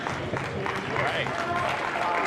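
A wrestling crowd claps and cheers for a wrestler at a live match, a steady, dense wash of applause from many hands, with a commentator talking over it.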